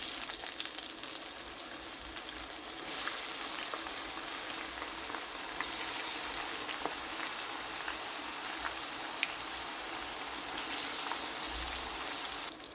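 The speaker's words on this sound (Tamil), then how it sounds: "கத்தரிக்காயை போட்டு பொரிக்கிறேன்" Marinated eggplant frying in oil gives a continuous loud sizzle and crackle, with spattering pops scattered throughout and the hiss swelling partway in.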